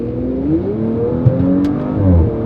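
A 2019 Audi RS5 Coupe's engine hums steadily, its exhaust burbling and rising into a short rev, with a few quick pops and crackles scattered through.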